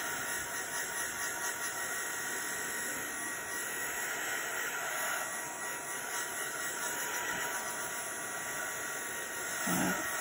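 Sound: heat gun running on low to dry alcohol ink

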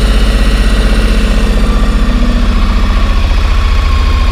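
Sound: motorcycle engine starting and idling

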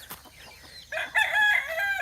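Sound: chickens clucking and rooster crowing

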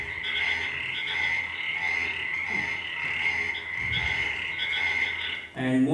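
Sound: common burrowing frog (Sphaerotheca breviceps) call

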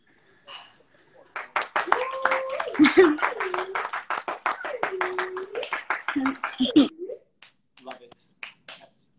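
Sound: audience clapping

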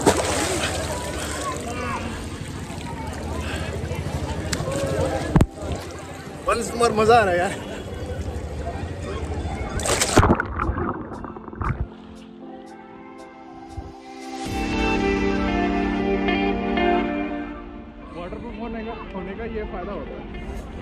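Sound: water sloshing as waterproof phone is dunked in the Ganga

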